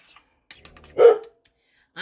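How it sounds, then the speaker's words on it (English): A pet dog gives a single short bark close by in a home kitchen during cooking, with brief faint noises before it and quiet after. "I'm so sorry about Ruffles barking"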